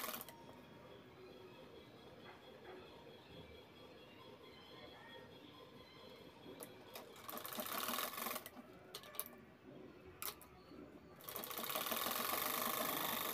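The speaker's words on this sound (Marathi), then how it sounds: "आता जिथे आपण नेफा बनवणार आहे तिथे आपण थोडीशी शिलाई घेतोय" A sewing machine stitches fabric for a designer drawstring pouch, running a short seam along the channel for the drawstring. It starts with faint mechanical whirring, then gets louder in the second half with fast rattling bursts, short pauses and a final sustained run.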